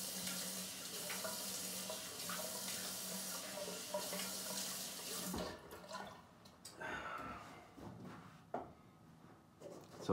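A bathroom tap runs into a sink as water is splashed on the face before a shave, a steady stream for several seconds, then broken splashes and drips as the hands scoop water.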